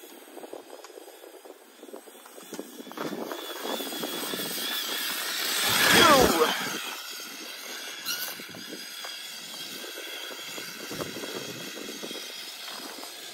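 Traxxas Slash 4x4 RC car rigged as a monster Baja bug, speeding across icy packed snow on a sledding hill, its whining motor swelling as it passes close by around the middle and then fading again.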